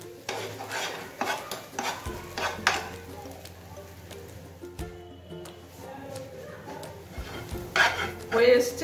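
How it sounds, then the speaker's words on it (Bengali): A spoon stirs and mixes green pea filling for kochuri in a kadai, making repeated close scraping and clinking strokes over a faint sizzle. "এইভাবে ভালো করে মিশিয়ে নিতে হবে।"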